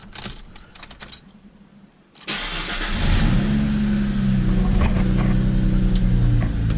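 Ford Mustang engine cranks and fires up after a quiet moment with some light clicks, then settles into a steady, loud idle close by.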